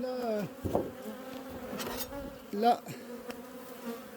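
Honeybees buzz around a colony set in the middle of a flowering rapeseed field, a steady close insect hum that swells and fades as individual bees pass near, with no one talking.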